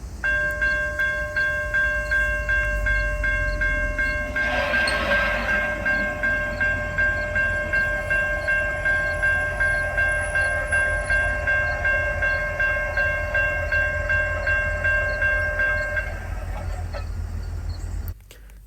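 A railroad crossing gate mechanism whirs and chimes steadily for most of the clip as the gates lower, over a constant cricket drone, with a soft rumble underneath and no voices.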